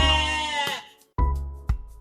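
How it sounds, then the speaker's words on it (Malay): A merino sheep bleats close by, first one long wavering cry, then after a brief pause two shorter bleats in quick succession, with no one talking. "Oh, ini domba merino."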